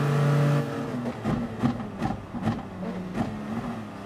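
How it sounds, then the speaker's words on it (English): Race cars in Gran Turismo Sport accelerate with engines rising in pitch through repeated gear changes, several cars revving and whirring close together, loud and continuous with no talking. "Look at the acceleration of those cars"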